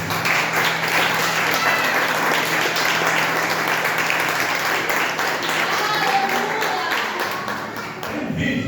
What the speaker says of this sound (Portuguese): Quem pode aplaudir o Senhor Jesus?